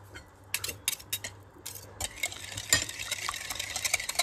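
Cake batter for an apple cinnamon loaf is stirred in a bowl, with irregular scraping and clinking of utensil against bowl that grows into a steady, busy mixing sound, fairly close with no talking.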